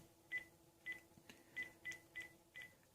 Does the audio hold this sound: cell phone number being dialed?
yes